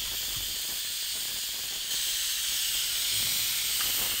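A pressure cooker whistle releases a continuous loud hiss of steam under pressure, steady and unbroken, growing slightly stronger partway through.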